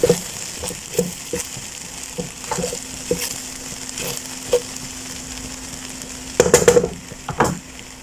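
Vegetable fried rice sizzles steadily in a hot pan while an egg is stirred through it, with repeated scraping and clattering strokes of a spatula and a louder flurry of stirring near the end.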